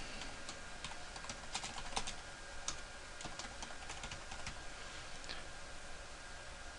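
Notes are typed on a computer keyboard in a quiet room, a steady run of light, irregular key clicks under a faint background hiss.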